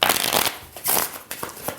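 A deck of playing cards being shuffled by hand, several brisk riffling bursts with short pauses between them, close and fairly loud, with no talking.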